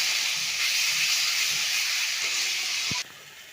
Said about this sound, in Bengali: স্বাদ অনুসারে লবণ লাগবে আর দিয়ে দিব হলুদ। এটা এখন ভালো করে ভেজে দিই।